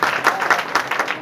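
Audience clapping for a team at a workplace communication skills session, a short burst of quick, uneven claps heard up close.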